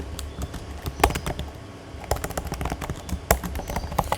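Password keys tapped on a laptop keyboard while logging in as root on Linux: a quick run of close, crisp clicks in uneven bursts, with short pauses between groups, over a low steady hum and no talk.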